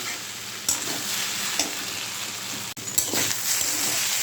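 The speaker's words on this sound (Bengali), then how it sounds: "ভেন্ডিটা আগে ভেজে নিই তারপরে মাছটা বসাবো" Okra fries in a pan with a steady sizzle and crackle, stirred now and then with soft scraping bumps, close and moderately loud throughout.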